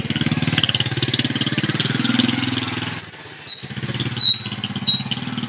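A motorbike's engine putters steadily nearby on a road wet from recent rain, then the sound breaks up into bursts of revving and hiss as it moves off, with sharp high squeals over the top.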